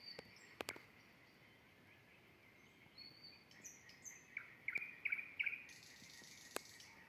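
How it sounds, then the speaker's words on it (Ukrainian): Faint, sparse nightingale chirps and short warbled phrases in a quiet outdoor setting, with a few sharp clicks and a low background hum. "співає соловейко"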